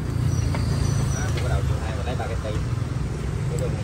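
A hot-water pressure washer motor runs steadily during a test, giving an even, close, droning hum that stays constant throughout.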